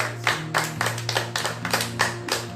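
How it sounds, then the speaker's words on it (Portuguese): A church congregation claps in a steady rhythm, sharp claps landing roughly twice a second over sustained keyboard or organ tones in a worship service. "Você pode aplaudir e glorificar o nome do Senhor."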